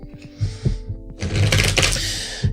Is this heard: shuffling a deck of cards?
yes